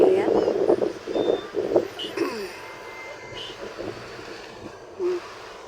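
Street traffic with a truck's reversing beeper sounding as a few high tones, mixed with engine rumble and passing vehicles; people talk over the first half, then the scene settles into steady background traffic noise.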